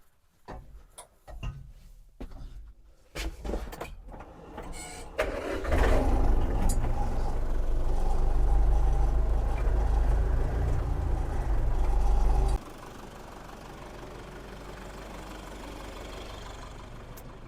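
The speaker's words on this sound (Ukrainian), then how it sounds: "подивимось, як зараз тракторець справиться. Мусить підняти в будь-якому випадку" A tractor engine idles, then rises into a loud, steady labouring drone for several seconds as it lifts a TUME seeder, before dropping back to a lower, quieter hum.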